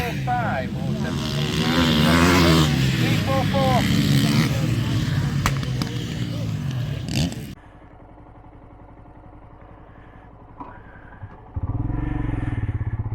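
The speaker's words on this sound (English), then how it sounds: "I think there's too many bikes in front now." Motorcycles racing at Longnor Races: a loud roar of bike engines revving and passing nearby dominates at first, then drops to a fainter distant drone before another engine surges close again, with a commentator's voice over the top.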